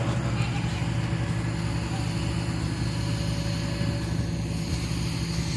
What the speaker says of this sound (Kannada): ಫ್ಲೈಟ್ ನೋಡಿ ಬರ್ತಾ ಇದೆ